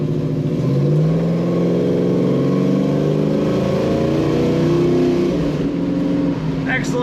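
A 1970 Dodge Challenger R/T engine runs loud and close, a steady low rumble that swells slightly in pitch as it revs, with talk faintly mixed in.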